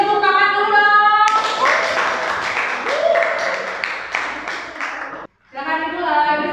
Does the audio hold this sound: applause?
yes